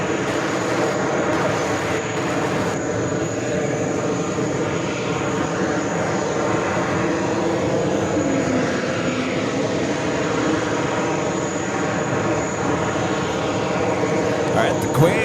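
A Lufthansa Boeing 747-400 rolls for takeoff on runway 4 Left at JFK, a steady broad jet-engine roar sustained at a distance, with someone talking over it throughout.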